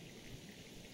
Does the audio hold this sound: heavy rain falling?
yes